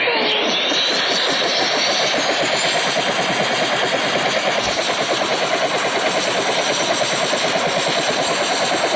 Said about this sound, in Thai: ดูสิได้เวลานั่งเฮลิคอปเตอร์ กลับบ้านเรากันนะ